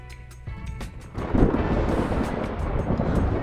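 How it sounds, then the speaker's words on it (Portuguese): Heavy thunder rumbles before a storm, starting with a softer crackle and swelling into a loud, deep, continuous roll close by. "Vai cair maior temporal, hein?"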